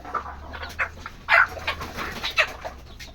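Desi chicken chicks peep and cluck on a farm in short scattered bursts, close and moderately loud over a low steady hum.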